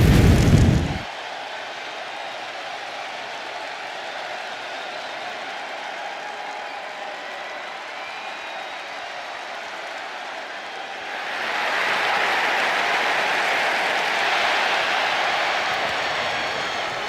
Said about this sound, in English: The crowd is booing while they're smiling and clapping.